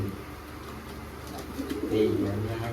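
Low, soft cooing of pigeons close by, with a murmur of voices in the background.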